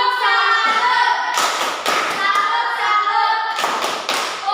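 A class doing a rhythmic salute clap: several sharp bursts of group hand clapping in a short pattern, loud and close, mixed with children's chanting voices throughout.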